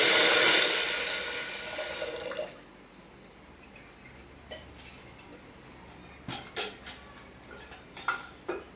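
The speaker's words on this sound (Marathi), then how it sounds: "एका कुकरमध्ये दोन ग्लास पाणी टाकूया" Two glasses of water poured into a pressure cooker in a home kitchen: a loud rushing pour that stops after about two seconds, followed by quiet drips and light clinks of metal utensils.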